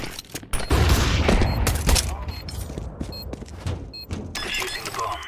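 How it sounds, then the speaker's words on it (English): A flashbang grenade goes off in a Counter-Strike bomb-defusal round: a loud, sharp burst followed by a harsh, ringing wash that fades over several seconds amid other game noise. "Throwing flashbang."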